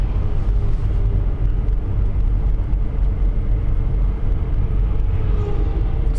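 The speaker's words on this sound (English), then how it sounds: "we're just gonna keep on driving until the video stops" A car drives along a winter road, giving a steady, loud interior rumble of engine and tyre noise with no breaks.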